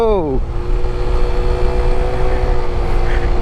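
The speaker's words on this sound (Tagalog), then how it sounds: "Lakas ng RPM ng motor natin." A motorcycle engine drones steadily at high revs while climbing a mountain road through the Quirino and Aurora highlands. The pitch dips at the start, then holds loud and close as someone talks over it.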